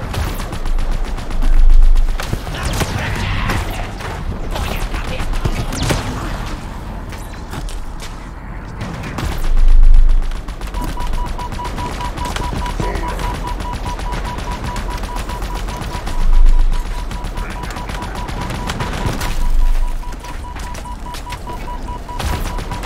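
Gunfire in Halo Infinite, an Xbox Series X shooter, with bursts of automatic fire and rattling shots running across the whole stretch, broken by several heavy booming impacts, loud and dense with a steady electric hum entering partway through.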